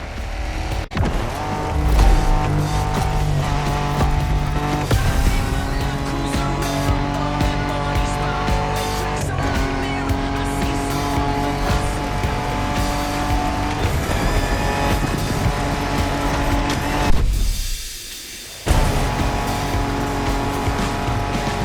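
Racing cars tear off-road through open terrain in The Crew Motorfest, a loud continuous engine roar with revving gear shifts and tire noise, briefly cutting out near the end before resuming.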